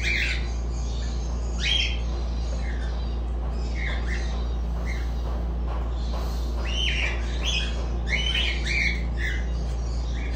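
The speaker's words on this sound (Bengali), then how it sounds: "দেখেন লাভবার্ডগুলা, ককাটেলগুলা, সবগুলো পাখি আলহামদুলিল্লাহ খুব সুন্দর করে গেছে" Lovebirds and cockatiels squawk and chirp throughout an indoor aviary, with repeated harsh calls overlapping near and far over a steady low hum.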